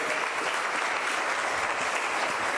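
A church congregation claps together in sustained, even applause, a dense and steady wash of hands with no talking over it.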